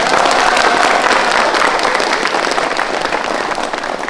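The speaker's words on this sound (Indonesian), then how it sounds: "ayo tepuk tangan" Loud, dense applause from a crowd of parents at a leadership-training gathering, steady and continuous clapping that fades slightly toward the end.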